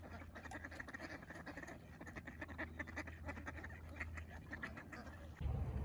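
Ducks quack faintly in a steady outdoor chorus with a constant low background hum, and a louder rustle comes in near the end.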